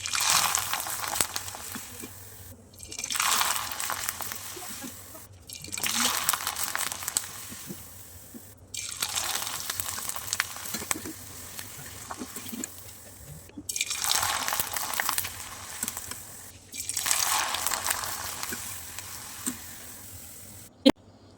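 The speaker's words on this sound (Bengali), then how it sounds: "পিঠাগুলোকে কিন্তু এখন আমি ভেজে নিচ্ছি।" Pitha cakes made from parboiled rice flour fry in hot oil, giving a steady, close sizzling hiss that swells and fades in repeated waves, with no talking.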